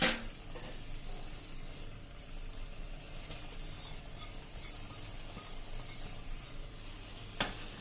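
Grated paneer being stirred into masala in a pan, a soft continuous sizzle with scraping stirs and a couple of sharp clinks of a spoon against the pan.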